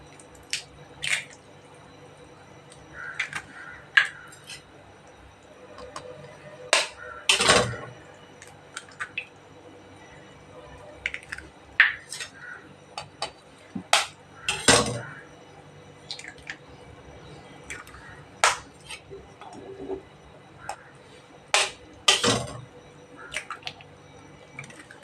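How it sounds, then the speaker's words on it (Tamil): Eggs are cracked one at a time into a pan of egg curry over a low flame: three sharp, wet cracks spaced several seconds apart, with small drips and squishy splats in between, close and fairly quiet. "இப்போ அடுப்பை ஸ்லோ பண்ணிவிட்டு நம்ம இதில் ஒவ்வொரு முட்டையாக நம்ம இதில் உடச்சி விட்டுடலாம்"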